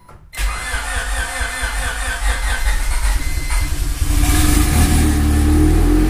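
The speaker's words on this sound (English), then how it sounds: "fire it back up and see if I can get it." A Honda CRX engine cranks and catches, then settles into a loud, steady idle that swells slightly toward the end.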